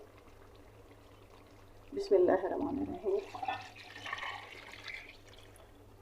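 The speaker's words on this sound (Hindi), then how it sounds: "अब हम पानी जो कि मैंने मेजरमेंट करके रखा हुआ था वो मैंने इसके अंदर ऐड कर दिए।" Measured water poured into a pot of chicken pulao, heard as a brief rushing splash in the middle while someone speaks close by.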